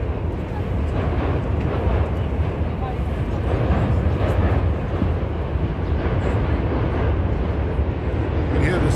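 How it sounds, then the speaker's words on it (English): Subway train crossing the Manhattan Bridge, heard as a steady distant rumble and rattle beneath the continuous wash of the surroundings, with no distinct passes or peaks. "You can hear the subway in the background going across the Manhattan Bridge"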